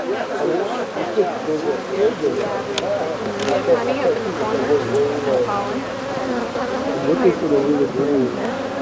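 Honey bees swarming around hive frames during hive splitting, a dense close buzzing drone with wavering pitch, people talking over it.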